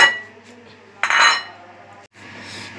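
A metal spoon clinks and scrapes against a bowl while dry spices are mixed into flour, with a sharp burst of rattling contact midway and softer stirring before and after, no speech.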